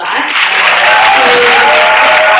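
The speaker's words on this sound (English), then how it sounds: "So let's give them a round of applause for" A conference audience applauds at the closing of Listen to the Silence 2017, a loud, dense and steady wash of clapping from a large crowd, with a faint sustained tone running through it and no talk over it.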